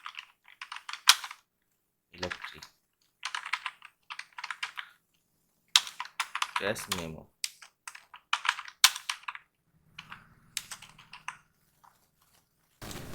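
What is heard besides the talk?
typing text on a computer keyboard in Photoshop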